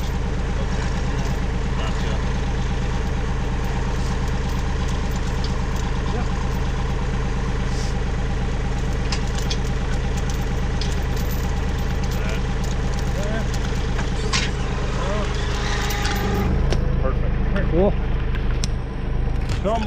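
A Bobcat tractor idles steadily nearby while wood is hauled out of the woods in Mexico, a loud constant low engine drone with people talking over it.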